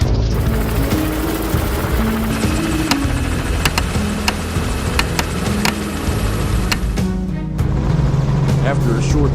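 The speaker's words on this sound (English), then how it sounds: "the helicopter roared back to life" A helicopter engine roars steadily and loudly, with a few sharp clicks cutting through the continuous drone, during a wild boar hunt in Florida.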